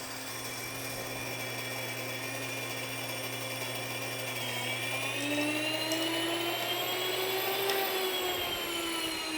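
An electric grain mill grinding grain into flour for bread, giving a steady motor whine with a humming tone that rises in pitch partway through as the load changes, then drops near the end.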